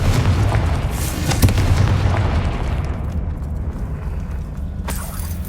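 Confringo spell explosion in the Hogwarts Legacy video game: a loud, booming blast that rumbles and slowly fades over several seconds, with a sharp crack near the start and another burst near the end.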